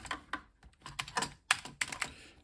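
Keys tapped on the detached keyboard of a TI Silent 700 Model 703 terminal, a quick close run of about a dozen clicky keystrokes in uneven bursts, with no talking.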